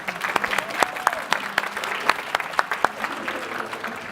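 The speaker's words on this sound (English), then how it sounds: "Let's give her another round of applause there." An audience at a startup pitch showcase applauds after a pitch, a lively crowd of clapping hands with sharp individual claps standing out, close and fairly loud.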